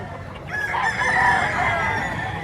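A young rooster about a year old, offered for sale in Batangas, crows once, fairly near and clear over a low background murmur.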